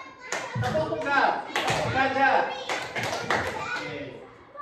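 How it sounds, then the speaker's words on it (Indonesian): Schoolchildren in a classroom clap on a teacher's call, giving a few sharp single claps in unison amid lively talk from the teacher and kids. "Tepuk tunggal"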